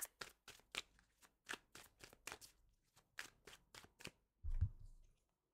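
A tarot deck handled up close: a quick series of crisp card snaps and flicks as cards are shuffled and drawn, ending with a dull soft thump on the table, then quiet.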